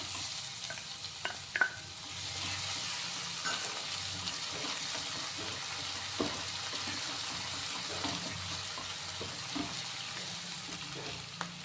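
Ground chili, ginger and garlic paste sizzling in a pan for akki husli, a steady hiss of frying with small crackles and occasional stirring scrapes, close and moderately loud, no voices.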